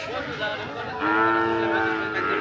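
A water buffalo lets out a long, low drawn-out moo close by, over a noisy livestock market background.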